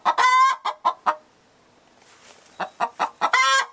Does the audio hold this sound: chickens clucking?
yes